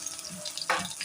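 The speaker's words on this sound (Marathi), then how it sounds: "आता ही चांगली तळून घेऊया।" Ginger-garlic paste frying in oil after cumin and mustard seeds, a soft, close sizzle with one brief brighter hiss midway, quiet and without speech.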